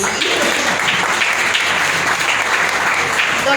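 Loud, dense audience applause at an awards ceremony, many hands clapping steadily in a continuous close wash for the full few seconds.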